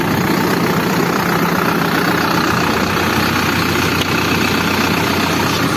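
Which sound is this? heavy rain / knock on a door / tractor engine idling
tractor engine idling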